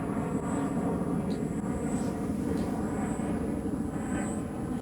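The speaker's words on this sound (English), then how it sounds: "there's a plane up there" An airplane passes high overhead with a steady, broad rumbling roar that holds level throughout, distant and uninterrupted.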